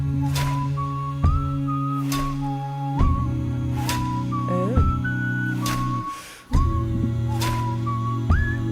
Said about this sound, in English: Beautiful whistling as well